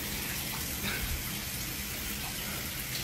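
Shower water runs steadily, a soft even hiss of spray that stays faint and constant from start to finish, with no voices.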